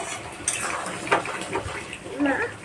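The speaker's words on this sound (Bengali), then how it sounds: "এই যে এখন মাংস কষা হচ্ছে, মানে কষানো হচ্ছে।" Meat being braised as kosha in a pot, with a low simmering bubble under intermittent clinks and scrapes of a spoon against the metal, a few sharper knocks standing out, all at moderate closeness.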